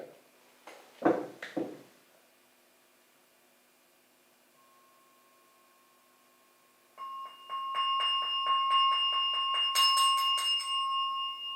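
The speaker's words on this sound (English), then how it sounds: "Now I will ring the bell to bring the meditation to a close." A meditation bell rings to close a group meditation session. A short stretch of voice comes first, then quiet, then a sustained, shimmering ring with a bright, pulsing tone that carries to the end.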